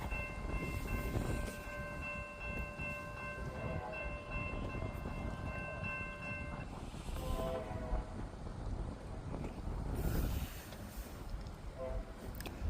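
A CSX freight train in Kingston sounds its horn for road crossings. A long sustained blast rides over rolling rail rumble and wind buffeting, then shorter horn notes follow as the train passes.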